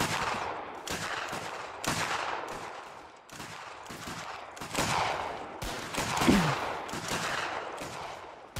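Repeated rifle volleys crackle in the video game Anglo Zulu War: Reloaded, loud overlapping shots and bursts firing steadily throughout as a battle rages, with no talk.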